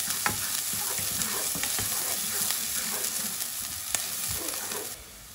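Onions, fennel, coriander and dried chili flakes fry in hot oil for a cauliflower curry, giving a bright, continuous sizzle with occasional stirring clicks up close, fading slightly at the end.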